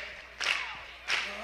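Two sharp hand claps ring out about three-quarters of a second apart, fairly faint and bright, separated by near quiet.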